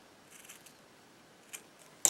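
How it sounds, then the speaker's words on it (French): Scissors snip paper at a slant while shaping a paper pumpkin for autumn home decor; one short, crisp cut lands near the end after a quiet stretch of faint handling. "Je vais la couper un petit peu en biais."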